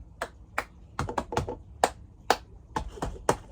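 Cup song rhythm of hand claps and sharp cup taps on a tabletop, a crisp, close, evenly paced pattern of percussive hits with no talking.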